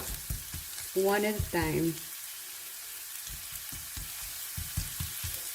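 Diced carrots and onions sizzle in hot oil in a pan, a steady frying crackle with stirring scrapes, while a voice speaks briefly over it.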